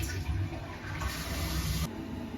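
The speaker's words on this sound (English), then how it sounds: "this has a sensor flush, and so I am able to flush it by simply moving my foot" Luoware smart bidet toilet triggering its sensor flush, a steady, close rush of water swirling through the bowl that cuts off abruptly near the end.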